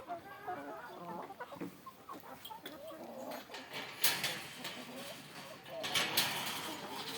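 Chickens in a village farm shed cluck repeatedly while pecking at tomatoes, fairly close and moderately loud, with a person talking over much of it.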